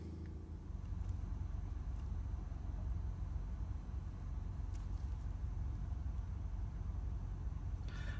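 A BMW E91 328i with the N52 engine runs steadily after an oil change, a low, even idle hum holding at moderate volume from start to finish.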